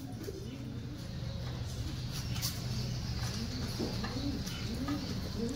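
Pigeons at a pigeon seller's place coo over and over, several low rolling calls overlapping against a steady background murmur.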